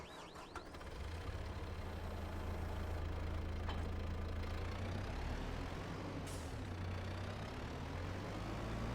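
Tractor engine idling in Farming Simulator 22, a steady low rumble held close and even for several seconds after a brief hiss at the start.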